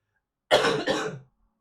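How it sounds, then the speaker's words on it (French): A single person coughs twice in quick succession, close up, followed by silence. "je tousse encore un petit peu"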